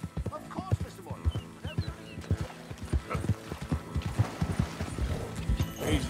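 Fox Trotter horse hooves clip-clop steadily on the ground in a video game, a close, rhythmic run of sharp beats with faint game background and brief voices.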